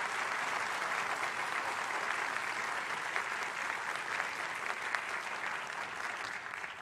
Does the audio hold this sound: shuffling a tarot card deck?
no